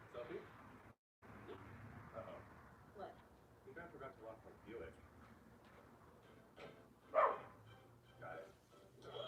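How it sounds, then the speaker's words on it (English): A dog barks outdoors in faint, scattered bursts, heard from a distance behind a person talking over a sports broadcast indoors. "What are you barking at?"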